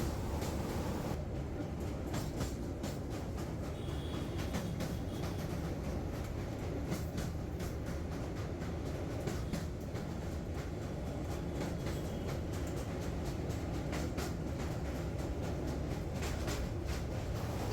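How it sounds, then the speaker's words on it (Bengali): A passenger train rumbles across the Vivekananda bridge over the Ganges, a steady, loud rolling roar heard from inside the coach, with faint clatter throughout. "আমাদের ট্রেন বিবেকানন্দ সেতুর উপর দিয়ে যাচ্ছে, নিচে গঙ্গা বইছে।"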